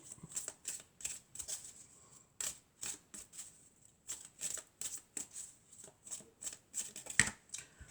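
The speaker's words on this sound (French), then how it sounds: "je vais prendre une carte de l'oracle des elfes" Elf oracle cards shuffled by hand in quick, crisp riffling bursts with short pauses between them, close and fairly quiet, with no voice over them.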